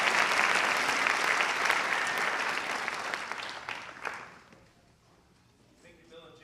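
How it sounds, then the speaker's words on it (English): An audience at a community awards night claps steadily in a full, dense burst that tapers off after about four seconds, leaving faint scattered claps and voices. "Please give these folks a round of applause."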